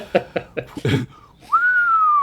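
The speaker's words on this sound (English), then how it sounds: "He whistled." A person whistles: a few short, sharp chirping notes, then a single long, clear whistled tone that holds steady and slowly falls in pitch, close and alone without talk.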